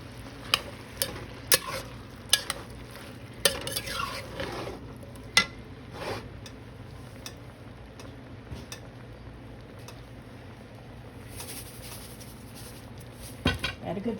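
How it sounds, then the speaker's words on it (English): A spoon stirs creamy chicken and corn chowder with diced green chilies in a pot, giving scattered scraping clinks and soft sloshing over a quiet background, with a few sharper knocks against the pot. "Stir this around."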